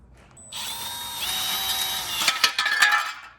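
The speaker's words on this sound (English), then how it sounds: "drill the holes" A power drill whines up to a steady high speed, then stutters and grinds through material in uneven bursts before stopping, while fitting a radiator fan on a turbo Honda.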